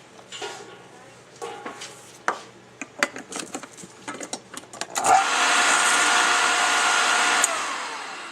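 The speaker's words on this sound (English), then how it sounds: "Our motor starts and runs the way it's supposed to." An electric motor wired through a switch box starts up after a series of clicks and handling knocks, then runs with a loud, steady whirring hum that holds for several seconds before easing slightly.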